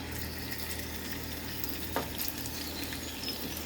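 Shrimp frying in hot oil in a pan for sweet and spicy shrimp fried rice, a steady close sizzle throughout with a small pop near the middle.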